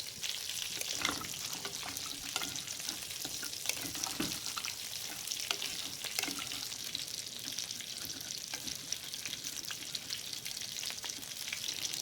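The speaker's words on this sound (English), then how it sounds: "you can hear that bacon cooking away" Bacon sizzles in a pan with a steady, faint crackling hiss and a few small pops and taps, continuous and even throughout, with no voices.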